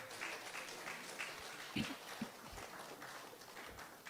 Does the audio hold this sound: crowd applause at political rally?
yes